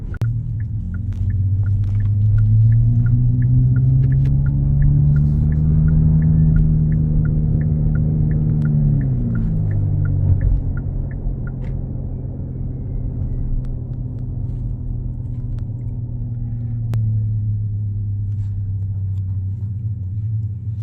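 A synthetic engine sound from a stationary Kia EV6 GT electric car: a deep, throbbing engine-like drone rises and falls in pitch, then holds a low steady rumble with faint ticking, loud and continuous, no voices.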